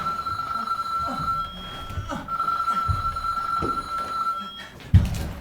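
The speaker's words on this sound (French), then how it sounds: "C'est le téléphone." A telephone rings in a stage play of Israël Horovitz's "L'Indien cherche le Bronx", a steady electronic ring repeating over faint room noise, with a sharp thump near the end.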